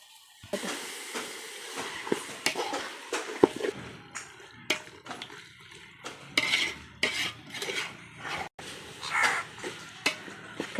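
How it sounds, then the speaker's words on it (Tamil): Chicken pieces stirred in a pot with chilli and spices for chicken biryani: clattering metal ladle scrapes and knocks against the pot, irregular and close, with a faint hiss of oil beneath and no talking. "கறியை போட்டு நல்லா பரட்டி விட்டாச்சு ஃப்ரெண்ட்ஸ்."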